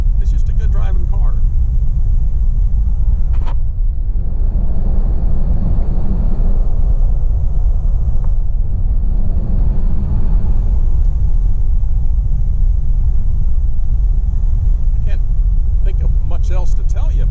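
A 1948 Packard Custom Eight driving, heard from inside as a steady low road rumble and engine drone with wind noise throughout, and brief clicks and rattles near the start and end.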